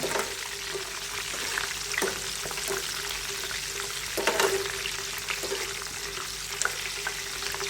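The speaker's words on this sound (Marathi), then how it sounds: "चांगले तळायचे बघा क्रिस्पी तळायचे एकदम" Raw banana chips deep-fry in hot oil, a dense crackling sizzle with occasional sharper pops and stirring scrapes, close and continuous.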